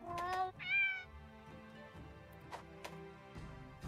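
A video game cat lets out a few distinct meows, a sharp rising yowl up front followed by softer drawn-out mewing, close and clear against a quiet background.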